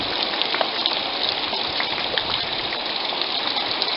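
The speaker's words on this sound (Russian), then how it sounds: "Шум дождя. Главное, чтобы крыша не протекла." Steady rain patters on a roof as a continuous hiss with scattered faint taps, even and unbroken from start to finish.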